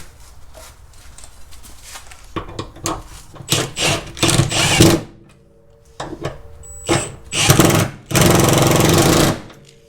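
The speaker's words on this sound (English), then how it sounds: "Now I'm gonna tighten the bolts again." Bolts being tightened on the suspension of a 2003-2009 Mercedes CLK W209 during a differential replacement, heard as bursts of loud, rattling impact-style tool noise in several separate runs with short pauses between them.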